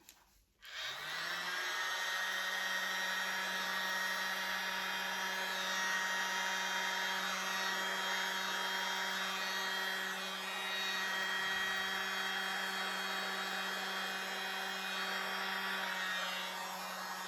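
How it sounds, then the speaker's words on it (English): A small blower runs continuously over acrylic Dutch pour paint on a 16 x 12 inch canvas, giving a loud, steady whirring hum with a constant low drone after a brief start-up. "I think I might just try the little blower to see if I can just get rid of a bit of that."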